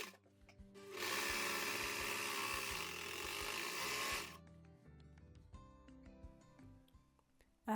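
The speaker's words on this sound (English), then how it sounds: "Now I'll finish the raw edges using my overlock" An overlock serger runs fast and loud for about three seconds, whirring steadily as it finishes the raw edges of linen fabric, then stops, leaving faint clicks and rustling handling noises.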